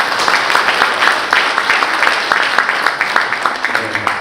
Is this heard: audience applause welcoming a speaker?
yes